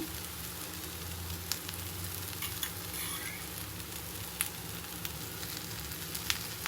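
Adai, a lentil crepe, sizzles steadily on a griddle just after being flipped, a soft continuous frying hiss with a few faint clicks, heard alone without talk.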